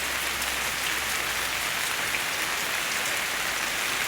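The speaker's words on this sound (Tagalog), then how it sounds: "Ito po yung ginagamit naming nagdidilig dito. Ito po ay rainburst." A rainburst sprinkler watering plants indoors gives a steady, even hiss of spraying water, continuous and fairly close throughout with no speech.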